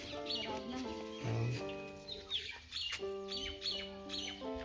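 Loud, harmonic squawks and honking calls from emus, several overlapping bursts close by with no talking.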